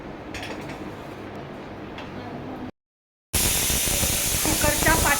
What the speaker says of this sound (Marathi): आता या कुकरच्या करणार आहे मी शिट्ट्या 5.